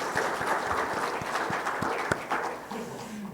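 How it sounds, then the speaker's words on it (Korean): A church congregation applauds during a Sunday worship service, with scattered, fairly light hand claps that are loose and uneven in rhythm, the clapping thinning toward the end while a faint voice enters. "박수로 환영합니다."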